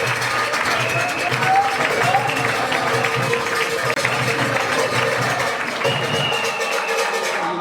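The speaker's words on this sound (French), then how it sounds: "je voudrais que vous puissiez l'applaudir" A large audience applauds a national political leader at a rally in the DRC, with steady, dense clapping and crowd noise that holds loud throughout, a low rhythmic drum-like pulse beneath it.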